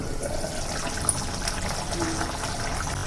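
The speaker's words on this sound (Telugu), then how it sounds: "ప్రస్తుతానికి ఇప్పుడే నీళ్ళు వేసాం కాబట్టి బబుల్స్ వస్తున్నాయి" Spicy Godavari-style pomfret fish curry bubbles after water is added, a steady close hissing simmer with soft popping that continues evenly throughout.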